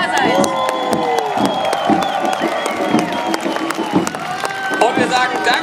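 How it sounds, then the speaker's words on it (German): A large outdoor crowd cheers and applauds at the Brandenburg Gate in Berlin during the International German Turnfest, a steady dense roar with scattered claps and shouts and some tonal whistling or music threading through, voices mixed in. "Vielleicht begrüßen wir mal mit einem großen Applaus unsere internationalen Gruppen hier in Berlin"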